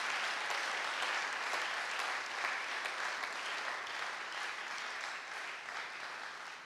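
Sustained applause from a church congregation during a sermon, a dense, steady wash of many hands clapping throughout, loud and continuous with no speech.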